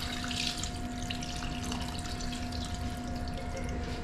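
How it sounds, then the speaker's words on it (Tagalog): Water poured from a tap into a cooking pan, a steady close rushing and splashing stream that holds for the full few seconds, with no talk. "Lagyan na lang po natin ng tubig"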